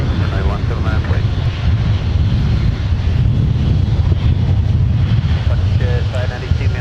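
A Delta airliner taking off from runway 17 at Minneapolis–St. Paul airport, heard as a loud, steady broadband roar with heavy wind buffeting on the microphone throughout.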